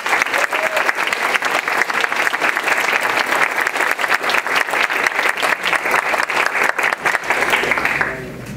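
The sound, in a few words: applause for the Dallas Way team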